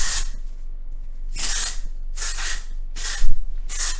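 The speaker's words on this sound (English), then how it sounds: "just gonna shake up the can and get to spraying" Four bursts of aerosol hair texture spray, each hissing for about half a second with quiet pauses between them, close and loud.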